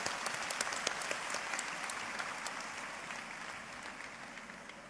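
Sustained applause from a large audience at the 2015 Shantou University graduation ceremony, a dense, steady clapping wash that fills the whole stretch and fades slightly toward the end.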